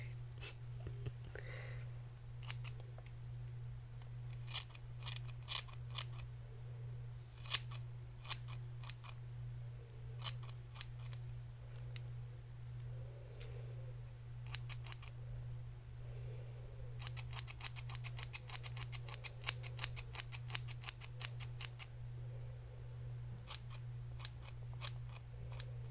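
Scissors snip through hair in a quiet ASMR setting, with sharp close-up cuts coming singly and in quick clustered runs over a steady low electrical hum and faint breathing.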